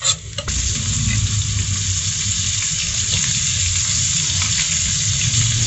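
Garlic and onion sauté in a pan with meat for adobong labong, a steady loud sizzle and frying hiss filling the whole stretch with faint stirring scrapes.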